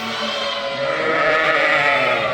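A single ewe, being reunited with her young lamb, lets out a long, wavering bleat, loud and close, holding for a couple of seconds.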